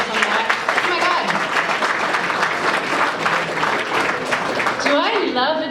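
Guests applauding at an annual dinner, a long, loud wash of clapping from many tables with scattered cheers, while voices talk over it throughout and rise more clearly near the end.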